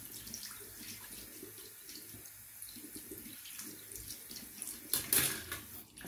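Running tap water rinses Floetrol acrylic pouring medium off a sieve at a sink, a steady splashing flow throughout with a louder, brighter gush near the end.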